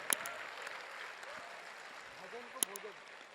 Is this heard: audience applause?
yes